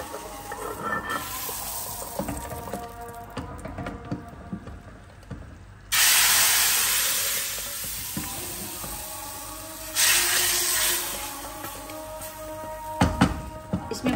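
Loud hissing sizzle bursts in suddenly as a spice tempering is poured into cooked daal, then fades to a softer crackle before a second sizzling surge.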